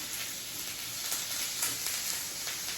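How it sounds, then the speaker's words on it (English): Pork sears in a pan over medium heat, giving a soft, steady sizzle with faint crackles and no voices. "going to go ahead and put that to sear in the pan"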